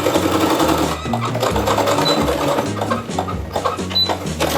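A sewing machine runs steadily while stitching a seam on a dress, its needle chattering in rapid, even bursts with brief pauses, loud and close.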